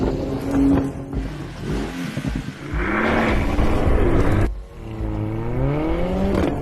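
Mercedes-AMG A-Class 45 with the M133 2-litre four-cylinder turbo engine revving hard, rising and falling pitch through gear changes with a brief cut before pulling again, loud and close.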